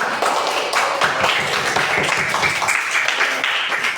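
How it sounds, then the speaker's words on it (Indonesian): Classroom of fifth-grade pupils clapping for a classmate named Marsa, a steady dense patter of many hands for about four seconds, fairly loud and continuous with faint voices mixed in. "kita kasih tepuk tangan dulu untuk Marsa"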